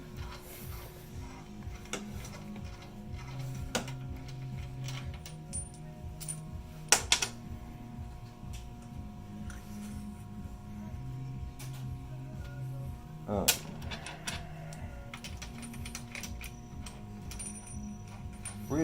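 Mechanical clicks and a few sharper ratcheting knocks near the middle and later as a GPI 0-degree phaser limiter is pressed into place, over a steady low mechanical hum with no talking.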